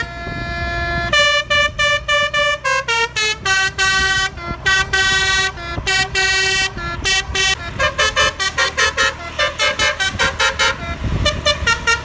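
A Subur Jaya bus sounds its musical horn, loud and close, playing a long run of rapid tuned tooting notes over an idling engine rumble.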